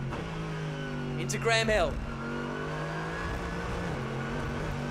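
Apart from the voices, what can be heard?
GT race car engine, onboard camera at Brands Hatch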